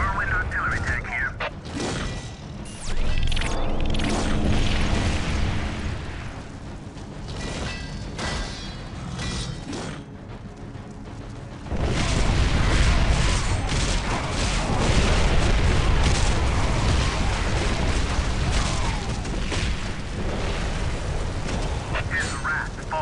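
Artillery fire from a Whirlwind artillery tank in Warhammer 40k: Dawn of War, with loud cracking blasts and a dense, rumbling barrage that swells in the second half.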